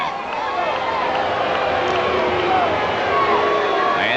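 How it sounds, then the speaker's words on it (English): Steady crowd murmur in the stands at a 1991 Little League World Series final in Williamsport, a broad continuous wash of many voices at even loudness throughout, with no distinct cheer or applause burst. "Part of the wonderful crowd here at Lamedy."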